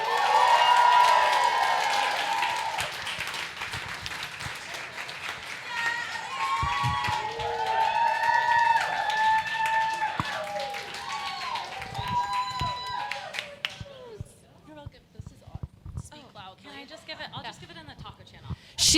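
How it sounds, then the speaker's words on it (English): Applause from an audience at a holiday awards party, scattered clapping and cheering mixed with lively chatter and background music, fading out after about twelve seconds into quieter room noise with a few last claps. "Join me in a round of applause for Elliot Mead"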